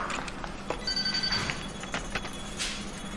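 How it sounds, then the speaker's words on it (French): A telephone ringing indoors with a repeated electronic tone in short bursts, moderately loud against low background noise, no talking. "C'est mon téléphone."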